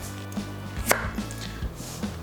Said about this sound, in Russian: Морковь сначала режу напополам и далее такими слайсами, полосками